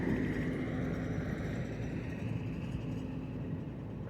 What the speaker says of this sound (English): There's a lot of truck we passing here.